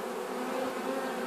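Honey bees at a queenless hive being given a new queen make a steady, dense buzz, close and even throughout with no voices.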